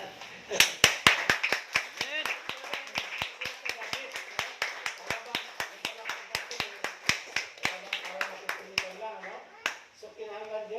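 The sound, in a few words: congregation clapping hands in praise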